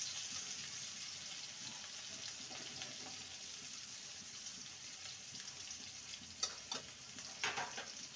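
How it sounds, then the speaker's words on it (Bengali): Brinjal (eggplant) frying in a pan, a soft continuous hiss and sizzle heard fairly faintly, with a couple of brief louder crackles near the end. "বেগুনটাকে ভেজে নেব"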